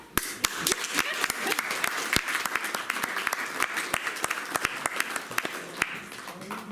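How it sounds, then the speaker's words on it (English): An audience claps at a healing gathering in Rotorua, giving steady, dense applause with sharp individual hand claps standing out throughout, fairly close and without talk. "Now we need to clap."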